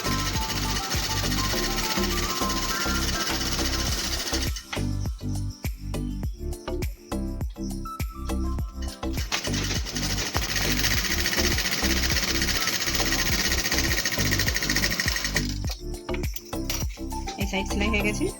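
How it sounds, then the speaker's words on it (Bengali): Electric sewing machine stitching the side seam of a cotton nightie, a loud steady mechanical rattle running in long bursts with brief pauses and stop-start clatter in between. "এই সাইড সেলাই হয়ে গেছে, এবার এই সাইড সেলাই করবো।"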